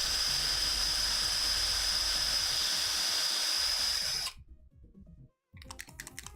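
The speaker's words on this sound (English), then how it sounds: "You chuck it into a drill and it just goes, shakes it up." A drill-driven shaker rattles an Army Painter speed paint pot with a steady, loud whirring buzz for about four seconds, then cuts off, leaving faint clicks and handling noise.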